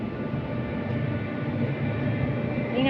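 An MRT train rumbles past in Singapore near Lucky Plaza, a steady, loud, broadband roar of wheels and carriages that holds evenly for about three seconds without voices.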